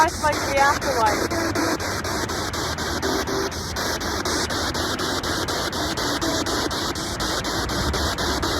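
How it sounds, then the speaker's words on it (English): Rhythmic, pulsing electronic static with rapid clicks and hiss from a device scanning through radio frequencies, loud and continuous. "it sounds like this is a type of device that might scan frequencies or something"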